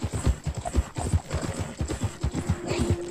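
Video game horse hooves clip-clopping in a steady, close rhythm, with a brief whinny-like call partway through and no talk over them.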